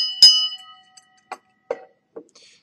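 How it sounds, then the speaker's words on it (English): A single struck bell rings once, a bright clang with a long metallic tail, followed by a few faint, scattered knocks and taps in an otherwise quiet space. "you will begin, of course, by ringing the bell of Genesis."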